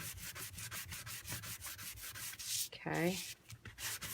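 Sandpaper rubs quickly back and forth over a stamped paper surface, taking off its finish in a close, soft, rhythmic scrubbing, with a brief spoken word near the end.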